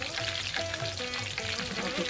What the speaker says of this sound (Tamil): வெங்காயத்தை நல்லா டீப் ஃப்ரை பண்ணி நல்லா ப்ரௌன் ஆகணும்.